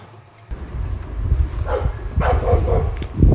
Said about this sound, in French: Des chiens qui jappent. Dans tous mes films, j'ai mis ça.